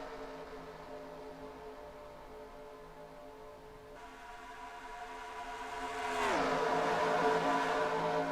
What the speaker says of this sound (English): Ooh, some more lap down trucks I hear.